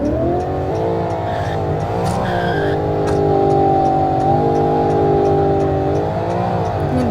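A Ford Mustang Dark Horse driving on the road, its engine a steady, loud droning hum from inside the car that rises and falls slightly with throttle.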